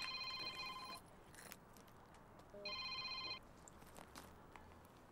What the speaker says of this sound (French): il y a mon téléphone qui sonne là